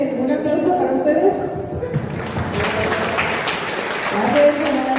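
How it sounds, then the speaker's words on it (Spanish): Audience applause at a talk on substance use, a burst of clapping that follows a speaking voice and continues as a dense patter mixed with murmuring. "Un aplauso para ustedes."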